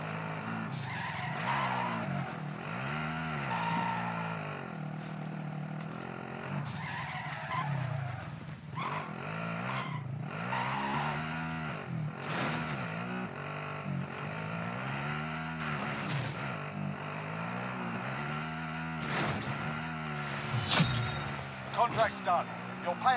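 A vehicle is driven in Call of Duty Warzone, its engine droning steadily with skidding tire squeals throughout, loud and continuous, with voices talking over it and a few sharp clatters near the end.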